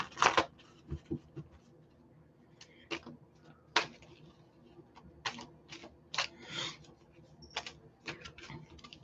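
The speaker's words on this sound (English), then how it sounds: "I pre-shuffled, but I'm just going to quickly shuffle again here." Cards are shuffled close up in quick bursts of crisp riffling and snapping, with short pauses between them and no talking.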